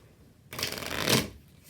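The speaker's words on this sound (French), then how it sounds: "je demande aux spectateurs de mélanger le paquet." A deck of playing cards is riffled in one quick, close shuffle lasting about a second, crisp and alone in an otherwise quiet room.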